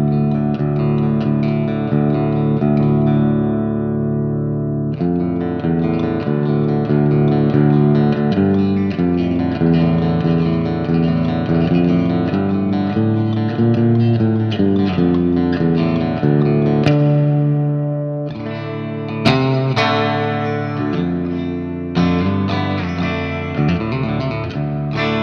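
A distorted electric instrument plays sustained chords and notes through an effects unit's plate reverb setting, the tails ringing smoothly between changes, loud and alone without speech.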